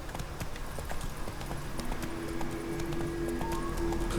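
The horse Roach gallops in The Witcher 3 with fast, steady clip-clop hoofbeats that run throughout over sustained game music.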